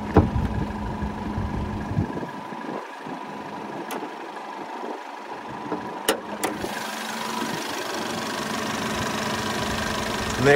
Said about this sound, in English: Let's go ahead and check out that 2-liter turbo.